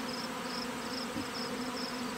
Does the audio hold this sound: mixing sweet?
no